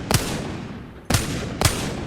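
Three Wingman pistol shots fired at a training mannequin in Apex Legends, loud sharp reports spaced about half a second to a second apart, each with a short decaying tail, no talking.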